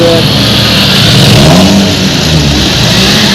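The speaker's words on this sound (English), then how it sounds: "Albanians like to drive their cars, their Porsche cars" Cars, including Porsches, Mercedes, Audis and BMWs, drive past in Durrës, Albania, engines revving loudly and continuously up close, with a rising and falling engine tone.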